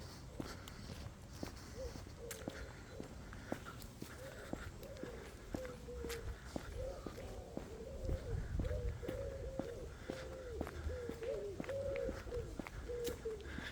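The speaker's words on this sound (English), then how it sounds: "You can just hear all the wood pigeons" Soft, repeated cooing of wood pigeons in the distance, under crunching footsteps and faint outdoor ambience.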